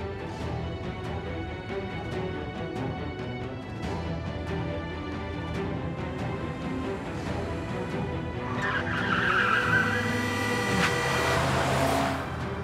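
A car driving fast, with engine drone and road rumble throughout and a rising, harsher burst late on like tyres skidding, set under a music score.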